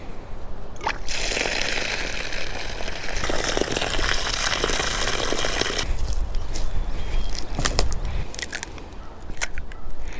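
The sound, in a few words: rinsing morel mushrooms in water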